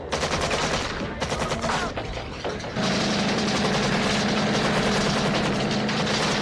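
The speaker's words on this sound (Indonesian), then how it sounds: "mereka semua langsung melepaskan tembakan balasan" Rapid bursts of gunfire in a film's firefight in a Panama jungle, loud continuous machine-gun volleys with short gaps, merging into a sustained roaring barrage.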